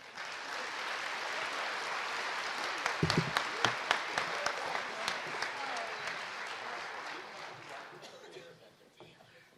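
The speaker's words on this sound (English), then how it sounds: "Let's give them a round of applause." A high school winter choir concert audience applauds students accepted into the Minnesota All-State Choir, with dense sustained clapping, a few sharper individual claps and light laughter, fading out at the end.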